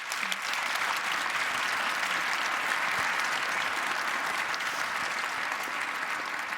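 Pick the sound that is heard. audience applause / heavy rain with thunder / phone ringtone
audience applause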